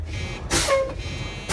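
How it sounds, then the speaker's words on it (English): Truck air brake pedal pressed and released during a brake test, heard as two sharp bursts of hissing air separated by a short pause, close and loud over a low idling rumble. "now I will press on my brake pedal on and off"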